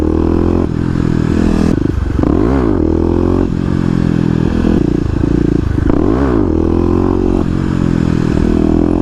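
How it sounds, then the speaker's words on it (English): A 2018 Kawasaki KLX250 dirt bike revs hard in second gear and lifts its front wheel, a loud close single-cylinder engine rising and falling through repeated pulls, with wind buffeting over it throughout. "You guys can see now that the KLX now definitely has the power to be able to get the front wheel up in second gear."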